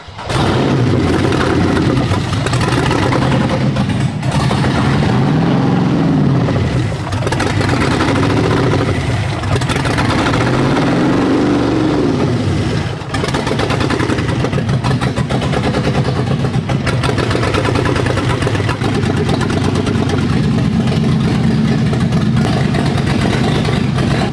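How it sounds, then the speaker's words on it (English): Engine of a JDM show car built from Dubai scrapyard parts, running steadily and loudly at close range, with repeated rising and falling revs throughout. "All right, we got the car running."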